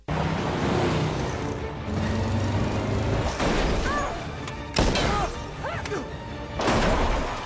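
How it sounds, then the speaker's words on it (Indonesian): Action-film car chase involving a Nazi military car: a roaring engine and road noise broken by heavy thuds and crashes, with brief voices mixed in. "Inspektur Das yang gak kehabisan akal akhirnya mengejar mereka menggunakan mobil perang milik Nazi."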